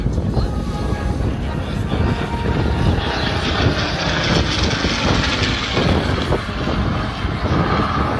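A Supermarine Spitfire roars past during an airshow at Southport, a loud continuous engine drone mixed with wind buffeting on the microphone and a commentator talking over it.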